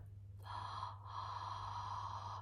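A sustained, forceful inhalation through the nose for the sahang breath in kriya yoga, drawn steadily over about two seconds with a brief break, close and alone against a low steady hum.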